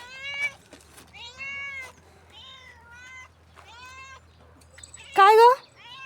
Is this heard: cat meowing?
yes